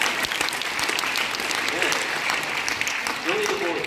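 Audience at a Korean gospel unification conference applauding, a full, continuous round of clapping with scattered voices and a brief shout near the end.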